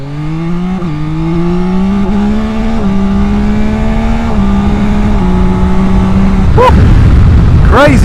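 A 2024 Yamaha Tracer 9 GT motorcycle engine revs hard through the gears, its steady rising drone broken by brief dips at each shift, loud and close, then sharper bursts of throttle near the end.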